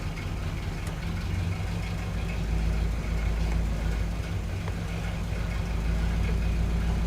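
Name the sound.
1986 Pontiac Firebird engine idling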